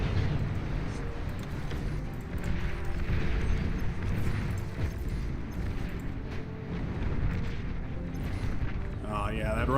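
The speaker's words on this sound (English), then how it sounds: "that riot cannon" A riot cannon fires in a video game amid a dense, continuous wash of booming, gunfire-like blasts and rumble. The noise stays loud and steady throughout with no clear gaps.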